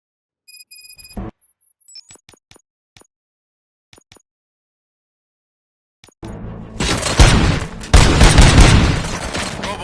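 Sparse electronic beeps and clicks in the video game RoboCop: Rogue City on PS5 give way to a sudden roar of heavy gunfire and explosions, loud and sustained through the last few seconds.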